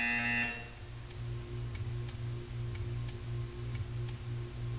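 A loud electronic buzzer in Portal 2 blares for about half a second at the start, then a steady low hum with faint ticking clicks repeating beneath it.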